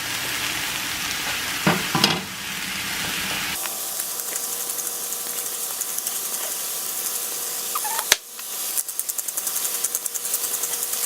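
Seasoned mushrooms sizzle steadily in a hot pan, a loud continuous frying hiss with a few clanks and scraping stirs, close and without talk.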